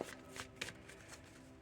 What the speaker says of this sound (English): I don't even feel like these are the cards I'm supposed to be shuffling right now.